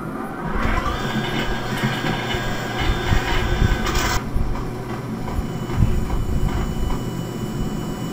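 Train in the Max Payne video game, a loud continuous rumble of rolling wheels and rattling rail cars with clanking and faint squeals, steady throughout.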